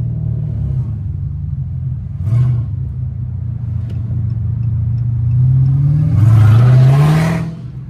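A Jeep Trackhawk engine rumbles loudly and close, then revs up in a rising whine as the vehicle launches into a wheelie, the pitch climbing steadily near the end.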